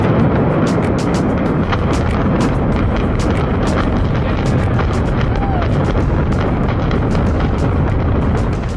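Demolition implosion of the J.L. Hudson's department store in 1998, a continuous loud rumbling roar of collapsing structure with sharp crackling bursts throughout, watched by a large crowd.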